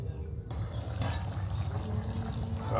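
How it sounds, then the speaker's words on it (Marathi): Running water gushes steadily from a tap into a sink, a continuous, close splashing with slight shifts as creek prawns are rinsed clean under the stream. "आता ह्याला आपण मस्त पाण्यामध्ये स्वच्छ धुवायला लागेल."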